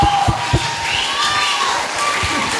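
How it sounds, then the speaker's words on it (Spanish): Students fill a school lecture hall with a steady wash of clapping and cheering as a conference on pollinators of the Pedregal reserve ends, loud and close, with a few shouts poking through. "un aplauso para el doctor"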